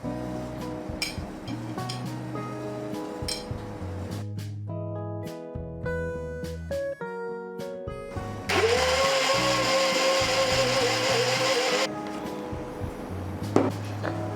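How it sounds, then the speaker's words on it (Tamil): Grated coconut is blended in a mixer grinder jar to make coconut milk. Scattered clinks and knocks of the jar being set up come first, then a loud whirring blend runs for several seconds before cutting off. "ஆல்ரெடி நான் திருவி வச்சுருக்கேன் தேங்காவை ஜாரில் போட்டு நல்லா அரைச்சி பிளெண்ட் பண்ணி அதோட பாலை எடுத்துக்கலாம்"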